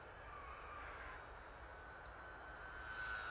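An RC aircraft powered by a T-Motor AT2306 KV2300 brushless motor cruises at about one-third throttle, giving a steady, faint airborne whine with a smooth, even drone that swells slightly toward the end.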